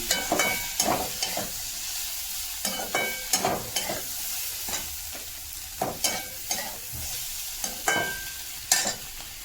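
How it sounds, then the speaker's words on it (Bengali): Cooked rice stir-fried in a pan with egg bhujia, pepper and sugar: repeated scraping stirs about once a second over a constant crackling sizzle, near and clear, no talk. "ভাতগুলো দিয়ে সুন্দর করে ভেজে নেবো"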